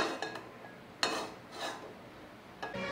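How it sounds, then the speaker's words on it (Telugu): A metal kadai set down on a kitchen stove, giving a few faint scraping clanks and rubs, brief and close, with quiet pauses between. "స్టవ్ వెలిగించి కళాయి పెడతాం"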